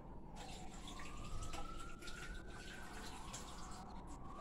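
Fresh callaloo leaves being washed under a running kitchen tap, a steady hiss of flowing water with faint splashing, close and continuous, with no talking.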